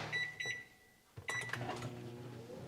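A microwave oven is set to cook parsnips under a cover. Two short, fairly quiet keypad beeps sound, then a pause, a clunk and another beep over a low running hum.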